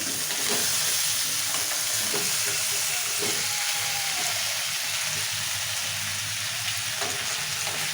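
Tomatoes and green chillies fry in a pan for a tomato-green chilli chutney, a steady close sizzle with occasional stirring scrapes running unbroken throughout.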